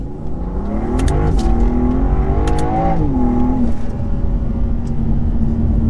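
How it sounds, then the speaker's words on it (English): A BMW M2 in comfort mode pulls hard at full throttle, its engine note rising steadily and staying loud and close throughout, with a brief wavering in pitch midway and no talking over it. "let's just plant our foot in comfort and see if it loses grip at all"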